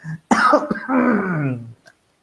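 A person clears their throat and coughs up close, a short rough burst followed by a longer gravelly throat-clearing sound.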